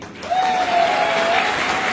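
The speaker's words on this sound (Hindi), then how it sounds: "जा रही है तो दिल से ताली बजनी चाहिए" An audience at a live event claps loudly and densely, holding a steady roar of applause for about two seconds, with a sustained tone ringing through the middle.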